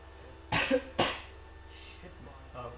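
Two sharp, close coughs in quick succession followed by softer throat sounds and faint breaths, over a quiet background hum.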